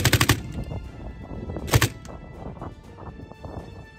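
A light machine gun fired on a Ukrainian front line: a short, rapid burst of shots, then a second brief burst a moment later, loud and close against faint background noise.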